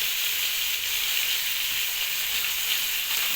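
Turmeric powder hits chicken liver frying with tomato and spices in a pan, giving a steady, loud, close hiss of sizzling oil that runs unbroken without any voices.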